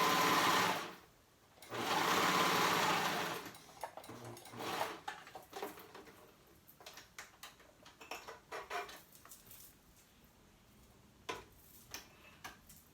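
Sewing machine top-stitching a baby romper: two sustained loud bursts of machine stitching early on, followed by quieter ticks, handling and fabric rustles.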